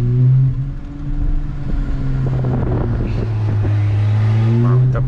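Porsche engine revving with popping exhaust while driving along a beach road, a loud steady low drone with crackling pops scattered through it and wind noise over the microphone.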